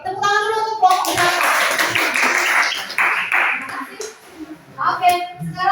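Students in a classroom clap for a group, a brief burst of quick handclaps rising after a speaking voice, then fading as the teacher talks again over scattered taps.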